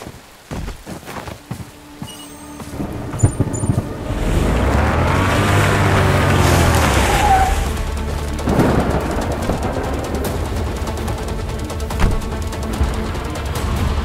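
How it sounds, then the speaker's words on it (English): A thunderstorm with rain in the video game Bright Memory Infinite by a river, with a low, heavy rumble of thunder swelling and rolling for several seconds over a steady wash of rain, loud and with no talk. "I can't get confirmation due to the storm"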